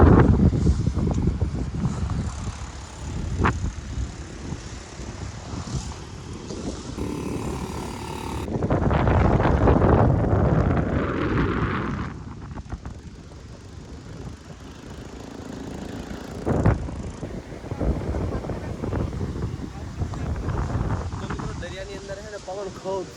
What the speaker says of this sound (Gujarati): પવન ખૂબ છે